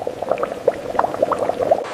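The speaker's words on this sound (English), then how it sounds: "As the juice boils, water escapes as vapor, leaving behind a thicker syrup" Sugarcane juice boils in a factory evaporator as it thickens into syrup, giving close, busy bubbling with rapid irregular pops and gurgles throughout.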